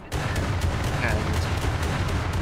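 Naval secondary guns firing in War Thunder, a rapid series of booming shots over a dense rumbling battle bed, loud and close throughout.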